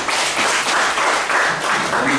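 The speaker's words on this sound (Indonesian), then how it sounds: "Ayo tepuk tangan dulu bagi Tuhan." A church congregation at an evening Mandarin prayer service claps steadily, a dense, loud wash of applause lasting about two seconds.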